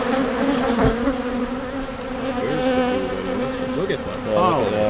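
Honeybees from an opened hive swarm and buzz steadily at close range, a dense layered drone with individual insects sweeping past and rising in pitch.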